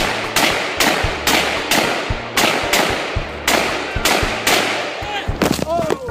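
A person fires about a dozen gunshots at a tree, each a sharp, loud crack followed by a short echoing tail, spaced roughly half a second apart in a steady rhythm, with a faint voice briefly near the end.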